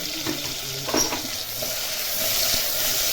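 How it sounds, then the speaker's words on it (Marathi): Stuffed ridge gourds sizzle steadily in hot oil in a pan, a continuous close frying hiss with a few soft clinks, no talking. "सर्व दोडके आपण भरलेले त्या तेलावर टाकून घेऊया आणि छान तेलामध्ये परतून घेऊया"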